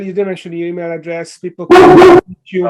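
A pet dog named Rip barks in a short, loud burst of sharp yaps close by, cutting in after conversation, with people talking before and after.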